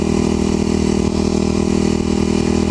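A Kawasaki KLX250sf dual-sport motorcycle engine running steadily at a loud, even drone, close to the microphone with no talk over it.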